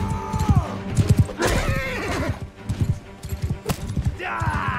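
Horse in Mount and Blade II Bannerlord whinnying sharply as rocks strike it, several loud neighs over clip-clop hooves and battle clatter, with short bursts of voice mixed in.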